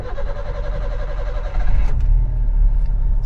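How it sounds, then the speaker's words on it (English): A Maruti Ritz engine turns over and catches right after a throttle body cleaning, a close, loud, low rumble that swells with a sharp transient as it fires, then holds a steady idle drone. "So let's start the engine."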